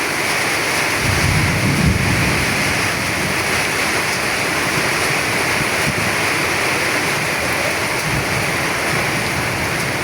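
A downpour roars steadily in Dhaka, with low thunder rumbling in the background and no voices, the heavy rain staying loud and unbroken.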